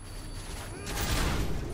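Dense, sustained gunfire from a juggernaut in the Modern Warfare 3 survival mode, loud and close, as a continuous barrage that swells in the second half.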